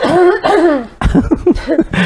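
Several harsh coughs in two bursts, close and loud, with a brief pause between them.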